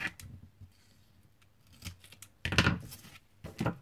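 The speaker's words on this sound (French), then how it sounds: "Et je coupe." Scissors cut paper for a handmade card in a few close, crisp snips and rustles, ending in a louder cluster of cutting sounds.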